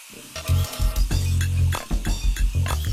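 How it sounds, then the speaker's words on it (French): Aubergine pieces stirred with a wooden spoon in very hot olive oil in a cartoon kitchen: a busy run of repeated scraping knocks and clattering pan sounds, loud and close, with no talk. "on ajoute les morceaux d'aubergine que l'on remue avec la cuillère en bois pour les faire dorer"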